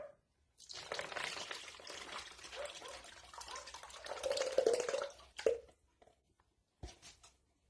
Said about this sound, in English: And you pour your liquid in here.